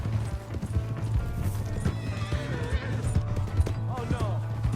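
A horse in Red Dead Redemption 2 clip-clops steadily along with hooves thudding, a whinny, and game music and voices layered over the hoofbeats.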